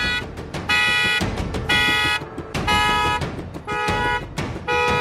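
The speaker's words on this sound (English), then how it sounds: "so that we know it wasn't him setting the car alarm off" A car alarm blares in repeated pulsing bursts, loud and close, with its harsh tonal wail cycling on and off roughly every second over a steady background rumble.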